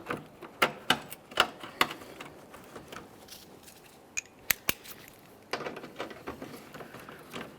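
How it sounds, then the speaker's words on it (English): Mounting bolts being started by hand on a 2015-2020 Ford F-150 during headlight replacement, a series of sharp, light metallic clicks and ticks, irregular and close, with quiet gaps between bursts. "Let's start installing our mounting bolts."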